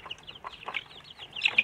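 Free-range village chicks (DOC ayam kampung) peeping, a scatter of high, short chirps at close range, fairly faint and irregular, with a couple of sharper cheeps near the end.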